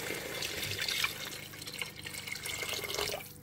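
Saffron-tinted soaking water from rice is poured into a cooking pot, a continuous close splashing flow that runs for a few seconds without any talk.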